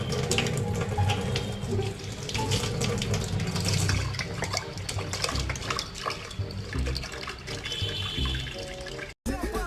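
Water runs from a tap in a continuous, fairly loud splashing stream that holds steady throughout and cuts off briefly near the end, with no talk over it.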